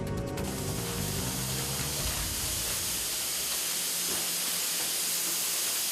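Industrial cooking machine steaming skipjack tuna for canning, a loud continuous broadband hiss of steam that holds steady throughout, with a faint mechanical rumble at the start and no talking.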